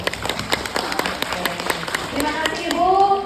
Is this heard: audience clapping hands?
yes